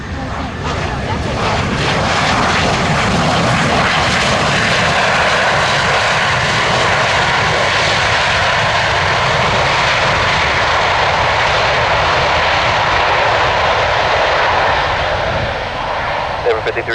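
Airplane engine droning loudly and steadily at Ford Airport in Grand Rapids, a broad continuous roar filling the whole stretch with voices partly underneath.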